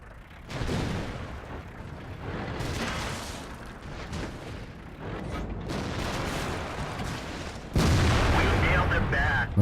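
Tank cannon fire in the World of Tanks video game, several heavy booming blasts with rumbling tails, the last one louder and closer, with voices talking between the shots.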